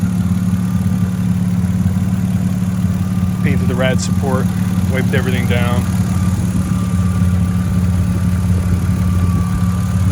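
A BMW E36 M3 engine idles steadily and loudly with a constant low hum throughout, while someone speaks briefly over it midway.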